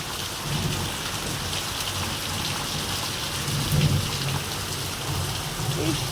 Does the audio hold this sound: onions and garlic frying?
no